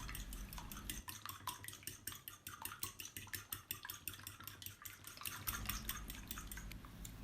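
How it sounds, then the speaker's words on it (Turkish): Eggs are whisked briskly in a mixing bowl, producing a fast, regular run of close clinking strokes against the bowl that carries on for several seconds without speech. "Yumurtamızı karıştırma kabımıza alıp çırpıyoruz."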